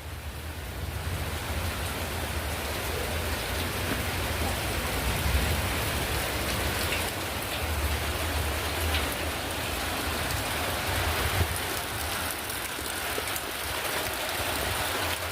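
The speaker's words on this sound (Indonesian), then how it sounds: "Terus suasana sekarang itu sedang hujan." Steady rain falls on a traditional village in Ngawi, East Java, a dense, even hiss that holds at one level for the whole stretch, with no voices.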